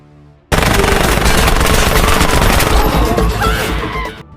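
A sustained burst of rapid movie gunfire, many shots fired in a dense, loud, close fusillade lasting several seconds after a sudden start, then tapering slightly, with no talking.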